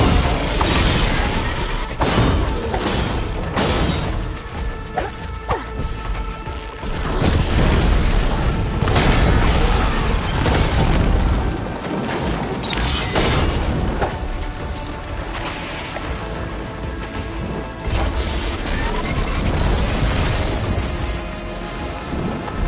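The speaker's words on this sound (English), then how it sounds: "Shoot the support beam!" A support beam in Horizon Forbidden West is shot and collapses with heavy crashing and rumbling booms over a dense, continuous game soundtrack and ambience, loud throughout.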